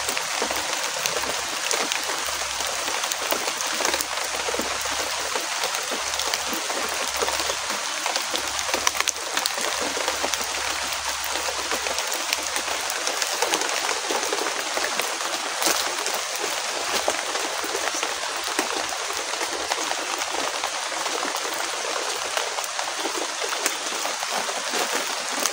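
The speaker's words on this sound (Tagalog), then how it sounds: "Ang lakas ng ulan" Heavy rain pours down in a dense, unbroken hiss, loud and constant throughout, with a low rumble underneath at times.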